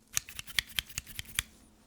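Crisp scissor snips, about eight in a row at an even pace, close and quiet with no talking.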